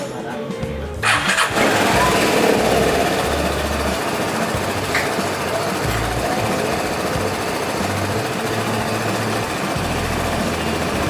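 A Vespa Primavera 150 scooter engine sputters to life without a regulator and keeps running with a rough, rattling idle, loud and close throughout.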